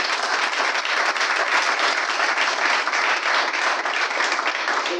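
An audience at an official launch ceremony of a Gabonese teachers' college alumni network in Gabon gives dense, continuous applause, a steady wash of many hands clapping at even loudness throughout.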